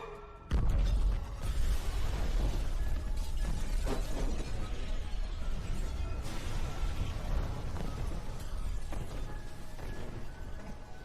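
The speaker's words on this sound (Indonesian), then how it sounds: "Setelah ledakan keras" A loud landmine blast erupts suddenly, followed by a long, dense roar of crashing debris and rumbling that stays loud throughout.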